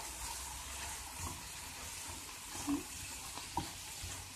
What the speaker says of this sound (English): I'll let you watch it, you can hear it sizzle.